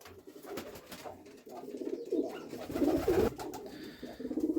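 Pigeons coo inside a village dovecote, several soft, throaty burbling calls close by, repeating in short overlapping bursts.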